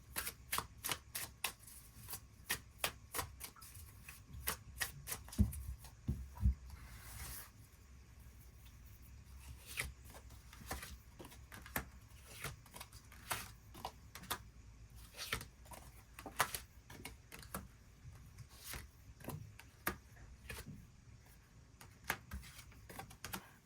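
Tarot cards being shuffled and drawn by hand, with close, crisp riffling bursts and flicks that come in quick clusters with brief pauses, repeated throughout and with no voice over them.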